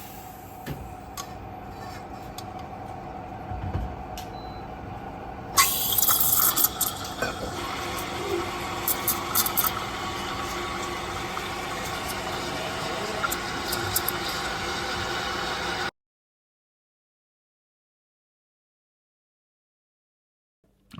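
Espresso machine steam wand steaming milk in a pitcher, a steady hiss that jumps louder and brighter partway through, then keeps a continuous airy roar before cutting off abruptly into silence.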